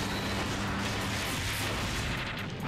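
Heavy cannon fire in the Gotcha Force video game, a dense continuous barrage of booming blasts and rumble that stays loud throughout, with no voices over it.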